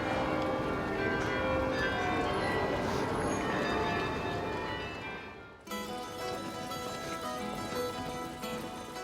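Carillon bells of the Bruges belfry ring out a melody, many tuned bells sounding in overlapping chimes that swell loudly, then carry on slightly softer after a brief dip, with a faint murmur of voices beneath.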